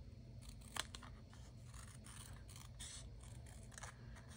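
Scissors cut through card for a handmade Christmas card: a series of close, soft snipping and scraping strokes in an irregular rhythm, quiet and heard alone.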